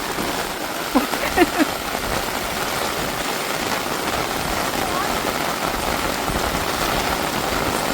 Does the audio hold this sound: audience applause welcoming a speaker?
no